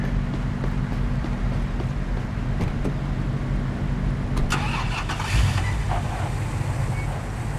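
A police car's engine starts up in a video game, wind and broadband road noise surround a steady low rumble, with a brief revving surge near the end.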